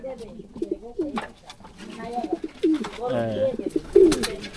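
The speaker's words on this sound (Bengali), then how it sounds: "এটা কি কবুতর" Racing pigeons coo on the day birds are entered for a 400 km race. Soft, rolling coos repeat close by while people talk over them.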